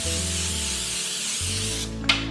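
Cooking oil sprayed from a can onto fries being prepared as a side dish, a steady continuous hiss lasting about two seconds, close and fairly loud, ending with a brief sharper burst.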